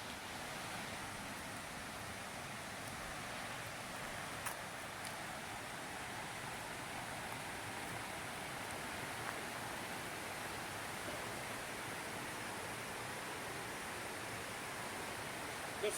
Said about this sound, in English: Come on back and look at the creek.